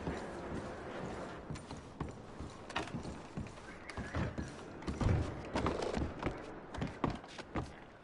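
Horse hooves clip-clop in Red Dead Redemption 2 while gear is packed onto the horses, irregular thuds and creaks of tack mixing with soft footfalls at moderate distance.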